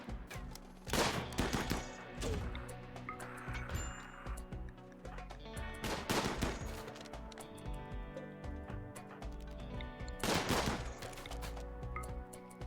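Gunfire in the colony-building game RimWorld crackles in sharp bursts and scattered single shots, with a few heavy volleys standing out over a steady background of game sound.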